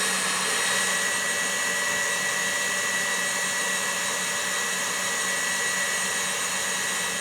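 An electric mixer beating egg whites for a pavlova whirs with a steady, loud motor drone that holds an even pitch throughout, with no talk over it.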